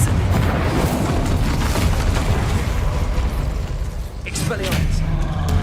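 Confringo and Incendio spell blasts in Hogwarts Legacy, loud booming fiery bursts one after another, with a voice speaking over the blasts.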